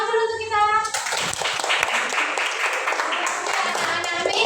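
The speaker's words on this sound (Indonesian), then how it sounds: "Tepuk tangan dulu untuk kita." A class of young children clapping their hands for themselves in a classroom, a lively burst of scattered claps and chatter that follows a short sung or spoken tone, with voices mixed throughout.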